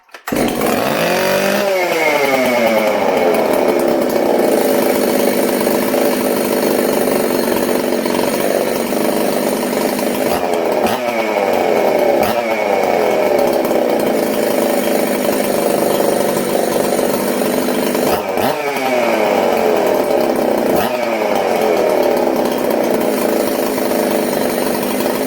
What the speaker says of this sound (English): My favorite saw, guys. As silly as it sounds. This saw just flat out rips.